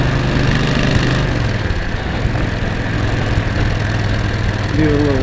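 Motorcycle engine running while riding, recorded on a motovlogging mic, with a steady droning hum, rising tones as it accelerates, and a constant wash of wind noise throughout.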